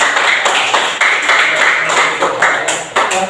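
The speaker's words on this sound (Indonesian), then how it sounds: "tepuk tangan dulu" Hands clap together in an elementary school classroom, a dense, steady patter of applause running the whole time with small surges and no voices on top.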